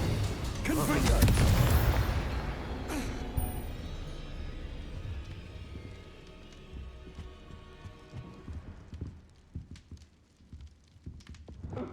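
Confringo blasting spell explosions in Hogwarts Legacy, a loud booming burst early on followed by a string of smaller crackling impacts and thuds that fade out, with a voice shouting over the action.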